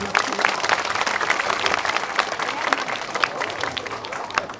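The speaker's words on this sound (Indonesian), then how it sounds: "tepuk tangan untuk sekan gong" A crowd applauds a Balinese gong ensemble at a temple performance, with sharp, dense clapping that holds steady and fairly loud, mixed with some crowd murmur and voices underneath.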